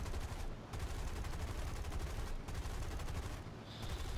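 Machine gun fire from an F2A Buffalo fighter plane in a combat flight video game: steady, rapid bursts with brief pauses, fairly faint and continuous.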